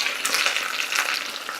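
Potatoes frying in oil in a pan give off a loud, continuous close sizzle with crackling spits and some stirring movement throughout.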